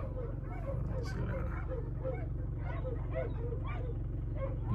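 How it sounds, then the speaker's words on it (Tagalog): A large litter of twenty-odd puppies yips and barks in short overlapping bursts against a steady low hum, with the chatter of the many small voices continuing throughout. "Marinig natin yung mga aw nila."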